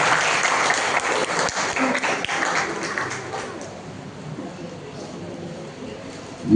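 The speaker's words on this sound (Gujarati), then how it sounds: "તાળીઓ સતત ચાલુ રાખશું." An audience claps steadily at an award ceremony as names are called, dense applause that gradually thins and fades, with a voice speaking over it.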